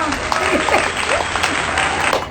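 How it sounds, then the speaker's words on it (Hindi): A small group at home claps for a mother after a fun family quiz game, a brief continuous patter of hands with voices mixed in. "तालियां"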